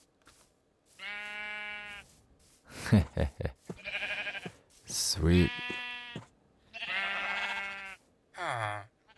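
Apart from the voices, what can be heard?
sheep bleating in the video game Minecraft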